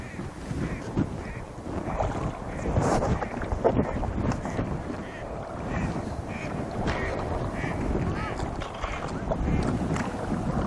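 Inflatable Sea Eagle Sport kayak being paddled on open water, with steady splashing and wind noise on the microphone throughout, close and continuous.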